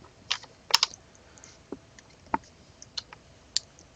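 Scattered keystrokes on a computer keyboard while entering values in SketchUp, a handful of light, separate clicks spread irregularly over a few seconds, near and fairly quiet.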